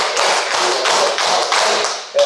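A lecture audience claps in unison, a loud, close run of evenly spaced group claps in a steady rhythm that ends with a sharp final clap.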